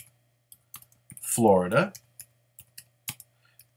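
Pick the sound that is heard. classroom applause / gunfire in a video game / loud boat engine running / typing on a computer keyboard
typing on a computer keyboard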